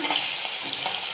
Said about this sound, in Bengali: তো দেখো, লাস্ট মাছগুলো ভাজা হয়ে গেছে,